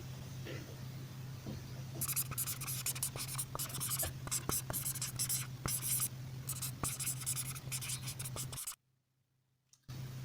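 A pen scratches out a math solution in short, quick strokes and taps, close and fairly quiet over a steady low hum, then stops abruptly into near silence before the hum returns.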